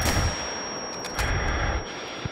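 A rifle shot in the hunting video game The Hunter on the Revontuli Coast map, a sharp report with a ringing tail, then quieter clinks and game sounds.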